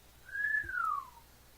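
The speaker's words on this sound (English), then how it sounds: "Someone from the crowd wolf whistles at us" A wolf whistle from a crowd in the Nekojishi video game: a single rising-then-falling two-part whistle, clear and fairly close, with no talk over it.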